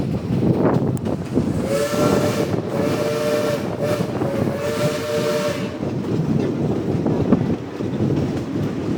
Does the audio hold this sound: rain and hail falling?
no